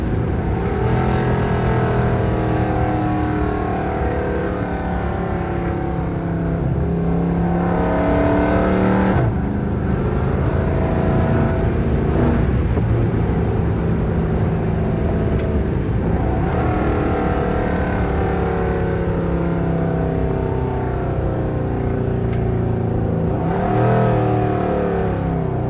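A Dodge Charger R/T with over 400 hp accelerates hard, its loud engine roaring and revving up through repeated gear pulls, heard close from inside the car over a sustained throaty drone.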